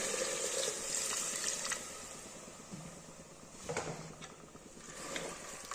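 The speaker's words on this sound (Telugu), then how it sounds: "కూరకు కావలసినన్ని నీళ్లు వేసుకొని" Water poured into a pressure cooker holding cabbage and soaked green chana dal for curry; a steady splashing pour fills the first couple of seconds, then quieter scrapes and small clinks follow.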